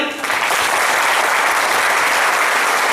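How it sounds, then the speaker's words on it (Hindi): Loud, dense audience applause from a crowd at a talk on life management and work-life balance, a steady wall of clapping that starts almost at once and holds evenly for the full length. "एक बार जोरदार तालियां हो जाए"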